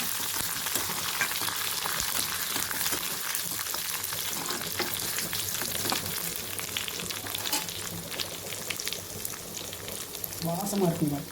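Onions and curry leaves fry in hot oil as the tempering for a village-style sambar: a loud, continuous sizzle with occasional stirring scrapes, close by, with a voice speaking briefly near the end.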